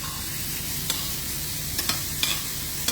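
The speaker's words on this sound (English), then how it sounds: "Okay, just gently saute it this way." Vegetables sauté in sesame oil for bibimbap, giving a steady soft sizzle with occasional light clicks of a utensil stirring the pan, close and even throughout.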